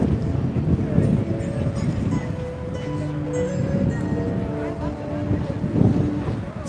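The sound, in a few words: strong wind blowing outdoors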